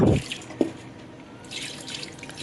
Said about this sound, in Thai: เปิดน้ำล้างไปเรื่อยๆนะคะ